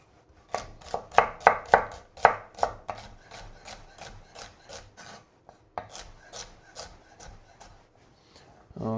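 Knife chopping celery on a cutting board, a run of sharp, close, crisp cuts in quick rhythm, slowing into softer, sparser strokes, no talk.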